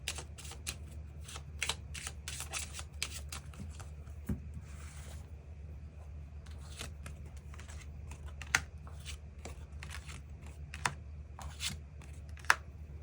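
Tarot cards being shuffled and drawn by hand, with close, crisp riffles, snaps and light taps scattered irregularly, plus a brief soft flutter of shuffling partway through; no voices.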